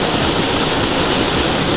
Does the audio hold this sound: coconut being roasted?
no